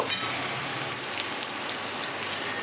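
Tomatoes and onions fry in a pan for a mutton curry, giving a steady, close, rain-like sizzle as they are stirred; the hiss stays even throughout with no speech.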